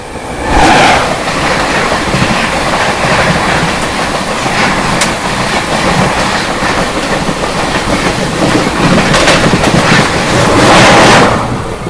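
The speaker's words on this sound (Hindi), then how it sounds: "सामने से आ रही है न्यू दिल्ली हावड़ा पूर्वा एक्सप्रेस" New Delhi Howrah Purva Express passing close by, a loud continuous roar of rolling rail cars with rhythmic clickety-clack of wheels over joints throughout.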